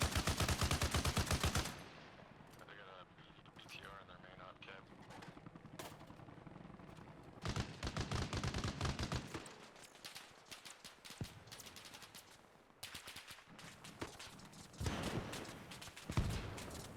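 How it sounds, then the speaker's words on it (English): Heavy machine gun fire in the video game Arma Reforger, long rapid bursts of sharp shots alternating with quieter gaps and scattered distant reports. "We're getting heavy attack from heavy machine guns from the south,"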